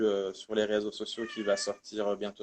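A cat meows among French speech, short nasal cries overlapping a person talking nearby.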